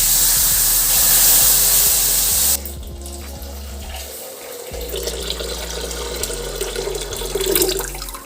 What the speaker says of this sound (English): First, pour 1 liter full cream milk in a pan and boil it for 10 minutes